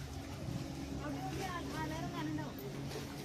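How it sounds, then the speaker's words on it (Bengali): A houseboat drawing up on the Alleppey backwaters in Kerala, its steady low engine drone running throughout with water churn, while people chatter and call out nearby. "এই যে গরিবের হাউস বোট চলে এসছে"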